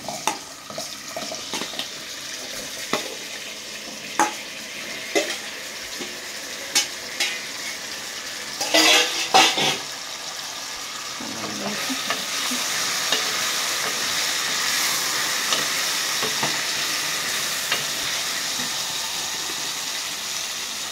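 Onions fry in a pan for a shama gada kurma, giving a steady sizzle that swells toward the end. Spoon stirs and scrapes punctuate the sizzle at irregular intervals.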